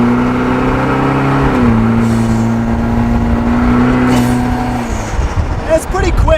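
A 2020 Vanderhall Venice with a torque-converter automatic and paddle-style manual shifting pulls hard, its steady engine drone stepping down in pitch as it shifts gears, loud and close, with a second shift near the end amid road noise.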